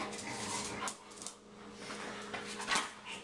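A husky puppy whimpers and yips in short, soft, high cries close by, rising and falling over a few seconds, with faint background noise and no clear talking.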